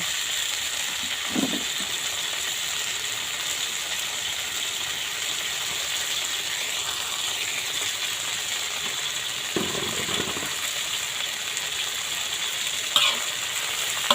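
Water spinach stir-fried over high heat in a wok, a continuous loud hiss and sizzle with occasional scraping clanks of the spatula, close by and with no one talking.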